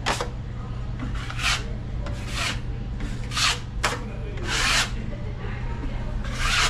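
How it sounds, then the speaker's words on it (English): A trowel scrapes joint compound thinly across a drywall patch in repeated rasping strokes, close up, over a low steady hum. "Just apply mud all the way around, but make sure you push the mud"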